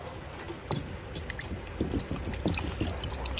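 Water pours and splashes as an item is soaked in a basin of water, with irregular sloshing bursts near and moderately loud, no talking over it.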